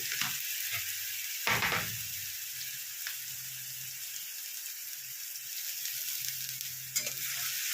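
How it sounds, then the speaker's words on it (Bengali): Crushed onion frying in a pan, giving a steady moderate sizzle close by, broken by a couple of stirring scrapes and a low intermittent hum in the background. "এর পেঁয়াজটাকে ভালো করে ভেজে নিতে হবে।"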